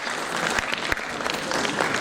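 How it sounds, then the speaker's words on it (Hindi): Steady applause from a crowd at a Bundeli festival fills the room, a dense patter of many hands clapping at an even level throughout. "एक बार उनके लिए तालियों के साथ अभिनंदन।"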